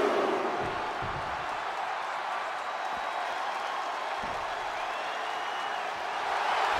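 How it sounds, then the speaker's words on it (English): Wrestling arena crowd in the WWE 2K22 video game, a loud continuous roar of cheering and noise that stays steady throughout, with a few dull thuds underneath. "The sound of this crowd is deafening, and he's asking for more."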